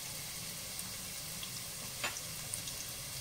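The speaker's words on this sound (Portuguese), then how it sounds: "o chiadinho da nossa cebola" Onion and garlic sizzle in a pan with a soft, continuous hiss at low volume, with a faint clink or stir near the middle.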